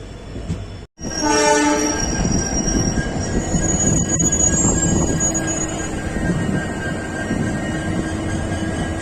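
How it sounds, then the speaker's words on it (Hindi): Uttar Sampark Kranti train departing Kathgodam station, a long loud horn sounding near the start over the steady rumble and clatter of the moving train, which continues throughout. "चलिए फिर आपको दिखाता हूँ मैं काठगोदाम से ट्रेन का डिपार्चर खूबसूरत नज़ारों के साथ"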